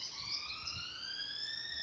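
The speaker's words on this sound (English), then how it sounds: "That's the alarm they're setting off." A sci-fi alarm blares in a Star Wars scene: a sustained, slightly rising electronic tone, steady and fairly loud throughout.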